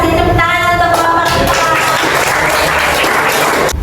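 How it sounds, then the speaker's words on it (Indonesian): Classroom students clap for a student group after its presentation, a loud burst of clapping that starts over a lingering tone and then fills the room steadily until it cuts off. "tepuk tangan untuk kelompok"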